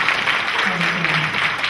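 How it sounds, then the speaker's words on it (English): Audience applause for actors at the close of a panel session, a sustained even wash of clapping with a voice speaking over it partway through. "Let's give a nice round of applause for all of these wonderful actors."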